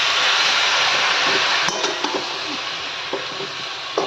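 Food fries loudly in a pan during Bengali home cooking, a steady close sizzling hiss broken by occasional clinks and scrapes of a stirring utensil, with no voices over it.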